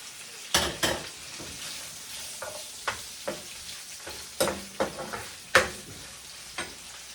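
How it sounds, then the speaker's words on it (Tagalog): Onions are sautéed in a pan with a soft, steady sizzle under repeated scraping and clinking strokes of a utensil stirring against the pan. "simple magigisa na ako ng sibuyas, walang kamatis."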